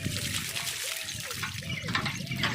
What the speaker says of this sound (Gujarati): પાણી રેડ ફટાફટ।